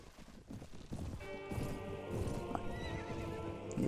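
Horses gallop with steady clip-clop hoofbeats and loud whinnies in the Mount & Blade: Warband medieval game, with battle clatter running beneath the riders throughout.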